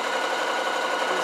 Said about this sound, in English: I'm going to sew all the way around like this